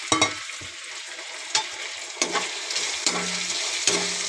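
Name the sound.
tomatoes frying with ginger garlic paste in a pan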